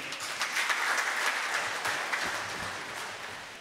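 Steady audience applause fills a hall at a mental health presentation at St Joseph Medical University in Tanzania, welcoming a speaker; dense, even clapping from a large crowd holds throughout without talk.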